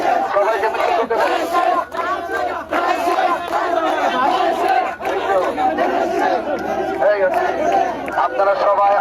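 A large crowd chants loudly and rhythmically in unison during a candlelight procession on a street, voices surging in repeated cries with continuous crowd noise throughout.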